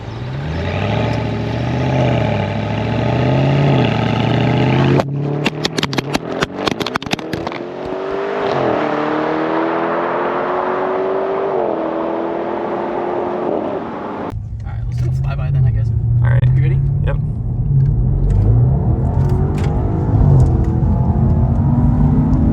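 A tuned BMW M550i with its resonator deleted drones loudly under acceleration. The engine pitch climbs through long pulls with gear changes, and rough wind rumble and clatter join in during one stretch.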